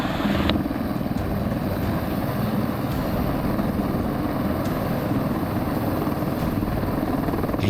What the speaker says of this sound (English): The landing requires a steady hand and firm command of the Huey